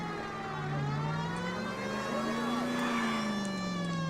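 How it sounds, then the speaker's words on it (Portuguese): In the video game L.A. Noire, a police car siren wails in a steady rising and falling tone over an engine hum, loud and close for the whole stretch. "Não gosto muito de andar com as sirenes."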